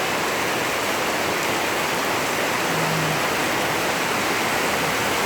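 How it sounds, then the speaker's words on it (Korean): Heavy monsoon rain pours through the night in Phnom Penh, heard from under an eave as a dense, steady roar of falling water, loud and unbroken throughout with no voices. "여기 처마가 있는데도 비가 너무 많이 치고 내리고 해서 밖으로 나갈 엄두가 나질 않습니다."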